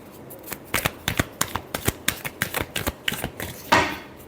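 Tarot cards being shuffled by hand, a rapid run of crisp riffling slaps and flicks in an irregular rhythm, close and clear with no talk.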